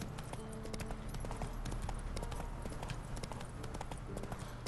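Roach, the horse in Witcher 3, trots along a path with rapid, steady clip-clopping hoofbeats. The beats are close and continuous from start to finish.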